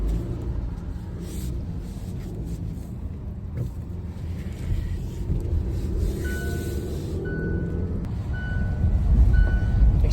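Trucks maneuver around a yard, with a steady idling engine rumble throughout and repeated reversing beeps sounding at regular intervals toward the end, growing somewhat louder.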